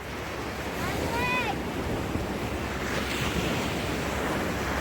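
Ocean surf washing onto a beach in Spain, a steady broadband roar with wind buffeting the microphone, continuous and fairly loud, with a brief high chirp early on.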